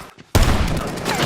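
A film shootout erupts as an armed group comes under sudden fire, a loud burst of rapid gunshots that starts abruptly after a short quiet moment and keeps rattling close.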